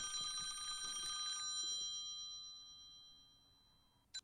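A telephone bell rings in the video game Conway: Disappearance at Dahlia View, a bright electronic trill that sounds once, then fades slowly, with a short click at the end.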